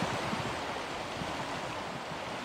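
Steady flowing water of a hot spring creek near Yellowstone on the Continental Divide Trail, a constant close rushing wash with no talk over it.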